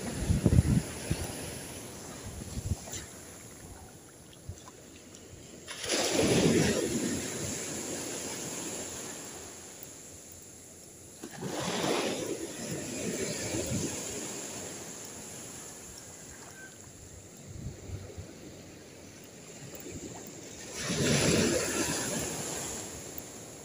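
Waves break on the shore in slow surges about every five to six seconds, each rising to a rushing wash and then receding, while steady wind blows across the microphone. No one speaks.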